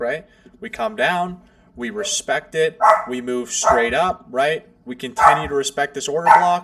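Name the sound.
dog barking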